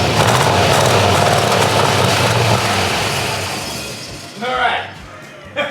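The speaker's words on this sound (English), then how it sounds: "It is running. Nice and smooth. Nice and quiet." A 1966 Ford Mustang GT fastback engine idles with a steady, loud, even rumble that fades toward the end, where a brief voice is heard.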